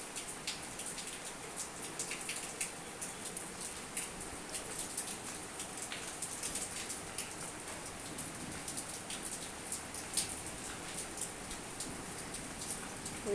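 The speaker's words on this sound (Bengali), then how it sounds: "বৃষ্টিতে তো আর বাইরে বেরোতে পারছি না, তো বৃষ্টি গ্রিলের মধ্যে দিয়েই তুলছি।" Rain falls steadily outside a window grille, a soft even patter and wash of drops on surfaces, faint and continuous with no other sounds standing out.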